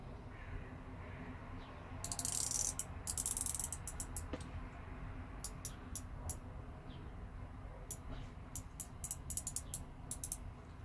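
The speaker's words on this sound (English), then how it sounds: "It has a non-signed screw down crown. Nicely pops out." Small mechanical clicks and ratcheting ticks from an unsigned screw-down crown being unscrewed on a big Nautec No Limit Coastguard watch, close up, in scattered bursts over a low steady background hum.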